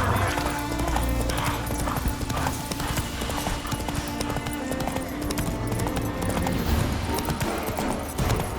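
Roach the horse gallops in The Witcher 3, rapid rhythmic hoofbeats pounding close and loud through the whole stretch, with game ambience underneath.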